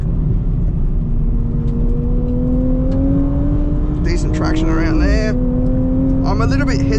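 A 2025 Nissan Z Nismo engine pulls hard through third gear with a rising, loud drone that climbs steadily in pitch, heard from inside the cabin over road and tyre roar while someone talks throughout.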